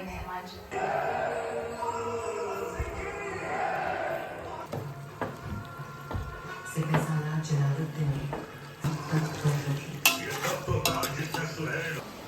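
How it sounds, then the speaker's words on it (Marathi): Marinated chicken sizzles in a pan for biryani while a utensil scrapes and clanks against the metal, with intermittent stirring, sputtering, and faint background voices. "नेट केलेलं चिकन आपण ह्याच्यामध्ये टाकूया"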